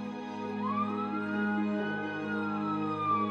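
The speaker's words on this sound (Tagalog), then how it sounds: "Saka may narinig na sirena ng pulis noon." Police siren sound effect wails in a single slow rising and falling sweep over a steady low drone, moderately faint and with no voices over it.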